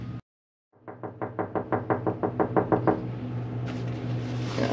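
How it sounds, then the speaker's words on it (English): Knuckles rap on a door in a run of about fourteen even, firm knocks, close and loud, followed by a steady hum of background noise. "But yeah, this knocking on the door shit."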